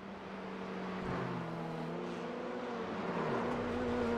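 Race car engine in a racing game at Oulton Park, a loud close whine that drops and shifts pitch as the car spins out, then rises again on the throttle.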